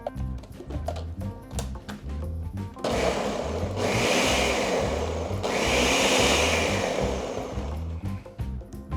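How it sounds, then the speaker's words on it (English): A blender whirs through an egg bite mixture, roaring steadily for several seconds between short pulses, loud and close with no voices. "There you see everything nicely blended together, but not too much."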